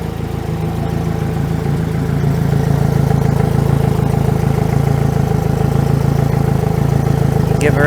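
A 2024 Yamaha F150 outboard motor runs at a steady, loud idle with an even low rumble throughout.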